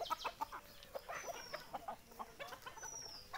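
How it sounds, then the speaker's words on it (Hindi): Desi Sonali chickens and a rooster on a poultry farm cluck in quick, irregular bursts, moderately close, with a few squawks scattered through. "आप लोग देख सकते हैं, मुर्गा है, मुर्गे को दौड़ा रहा है।"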